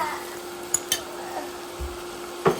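Sisig being mixed with sauce and chopped onion in a pan: a few sharp utensil clicks and scrapes over a faint, low sizzle, fairly quiet and sparse.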